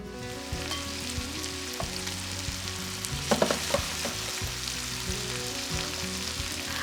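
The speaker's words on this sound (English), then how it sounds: "All right, now it's sizzling." Chicken sizzles steadily in a hot skillet for a lemon garlic dish, a loud continuous frying crackle with a brief burst of scraping and stirring midway, close up and with no voices.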